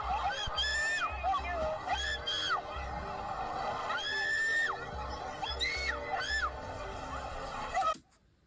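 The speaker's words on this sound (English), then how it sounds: "How many of y'all are sick of hearing that one screaming track go over every scary video?" A screaming sound track laid over scary footage: repeated high, wavering shrieks and wails over a steady low pulsing bed, loud and continuous, cutting off abruptly near the end.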